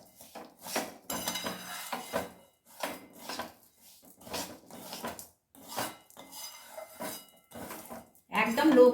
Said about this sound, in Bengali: একদম লো ফ্লেমে এইভাবে আমি নাড়িয়েই যাচ্ছি